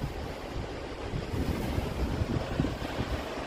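Waterfall along the Shrikhand Kailash trekking route in the mountains, a broad steady roar of rushing water mixed with wind buffeting the microphone, constant and fairly loud throughout with no talking.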